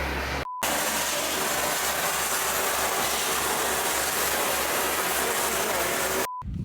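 Dry ice blasting machine cleaning an arched brick ceiling, a loud, continuous broadband hiss and roar of compressed air that runs steadily for several seconds, starting and stopping abruptly.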